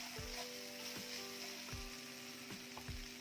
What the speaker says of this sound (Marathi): कोल्हापुरी मसाला वापरत असाल तर तो तेलामध्ये छान परतून घ्यायचा